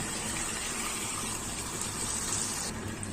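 Half a glass of water poured into a pan of Nellore-style prawn curry, a steady close gushing splash that holds at an even level for about three seconds.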